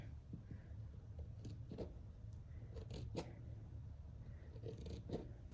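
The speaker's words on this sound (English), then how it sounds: "I'll just get my little snips, snip in" Small snips cut around silk scarf fabric, making a series of faint, irregular clicks and snips over a low background rumble, with no voices.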